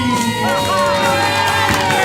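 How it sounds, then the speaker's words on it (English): A live event audience cheers and whoops loudly as players are brought to the stage, with shouting voices layered over music and crowd noise throughout. "let's give us a applause now for the players to the stage"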